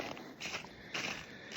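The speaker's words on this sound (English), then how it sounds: "the snow is super crunchy" Footsteps crunch slowly through snow during a whitetail hunt in New York, three or four soft, close steps at an unhurried pace with no talking.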